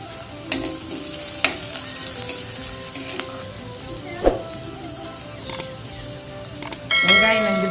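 Onion, curry leaves and a garlic clove fry in a pan, a steady sizzle broken by stirring scrapes and a sharp clack of a utensil, with a louder burst of frying noise at the end.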